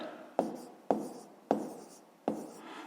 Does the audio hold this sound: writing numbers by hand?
yes